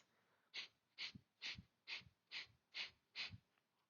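Seven quick, forceful nasal exhales in a steady rhythm, each a sharp puff of breath, close and fairly quiet with short pauses between.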